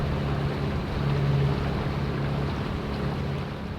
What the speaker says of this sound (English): the wind picks up again and funnels out of the narrow sound with a good force 4 to 5